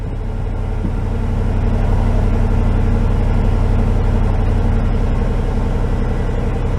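A 1996 Chevrolet Tahoe engine runs at a fast, high idle, a steady loud low rumble with an even pulsing throb that holds constant throughout, close up and without talk.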